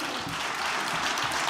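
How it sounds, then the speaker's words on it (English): Conference audience applauding the speakers at a medical meeting, a steady wash of clapping from a large crowd that holds evenly through the short stretch without a break. "And we can have an applause"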